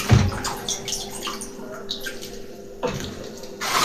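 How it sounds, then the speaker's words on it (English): Water poured over whole grains left soaking in a bowl, a short splashing burst at the start and another near the end, close and moderately loud with quiet trickling between. "So I pour some water over it"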